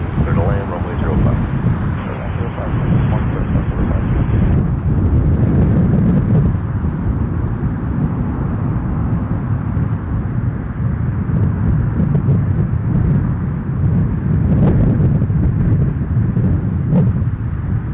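A plane landing on runway 05 at Toronto Pearson Airport, with loud continuous jet engine roar and wind rumble throughout, and people talking over it.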